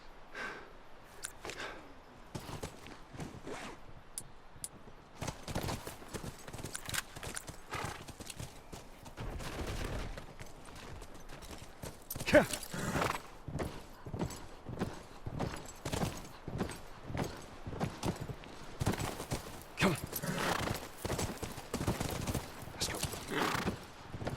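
Horse hooves clip-clopping in the video game The Last of Us, a steady walking rhythm of hoofbeats that runs throughout, with an occasional whinny and light ambient background.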